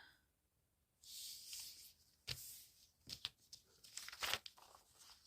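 Book pages being folded into bundles, giving a run of crisp paper crinkles, creases and short tearing-like rustles, close and fairly loud, starting after a quiet second and coming in uneven bursts with no talking.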